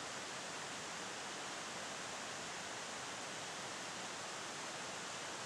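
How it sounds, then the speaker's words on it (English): A river flows close by, heard as a steady, broad rushing wash of water that holds even and unbroken throughout, with no voices over it. "The river is right over here."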